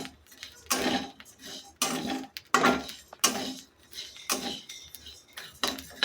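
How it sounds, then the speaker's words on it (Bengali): Rice dry-frying in a pan makes loud bursts of crackling and popping in irregular clusters roughly every second, close up and mostly without talk. "দেখেন কেমনি টেস্ট করে শব্দ হইতেছে, ফুটতেছে"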